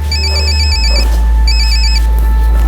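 A telephone rings twice in short trilling bursts over a steady low hum, loud and close.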